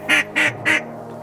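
Ducks flying low over a hunting spot in fog give three loud, evenly spaced quacks close by, with a faint low hum continuing underneath.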